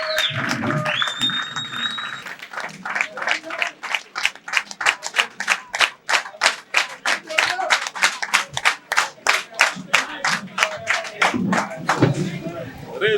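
A crowd at a political coalition gathering in Thiès, Senegal, claps in acclamation of an elected president, settling into loud, rhythmic unison clapping after some opening voices and cheering, then breaking into looser applause at the end.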